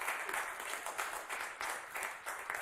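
A studio audience at a live WDVX radio music show applauds in a moderate, even wash of clapping that swells in slight pulses.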